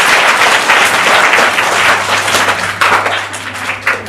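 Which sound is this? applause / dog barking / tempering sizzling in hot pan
applause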